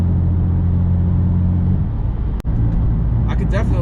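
A BMW M4 fitted with an AWE SwitchPath exhaust cruises at about 50 mph, its low, steady engine and exhaust drone heard from inside the cabin as a person talks over it.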